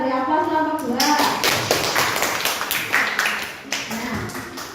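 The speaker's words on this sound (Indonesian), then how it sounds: "kita beri aplaus kelompok 2" A classroom audience claps for a student group, a burst of many hands starting about a second in and continuing steadily before thinning out, with a teacher's voice heard at the start.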